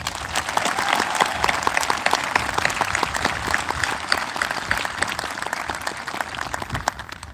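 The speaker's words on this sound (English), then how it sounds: "let's salute all 5 of these students with a well-deserved round of applause" A graduation ceremony audience breaks into sustained applause for five students, a dense, even patter of many hands clapping at moderate distance, continuing steadily for several seconds.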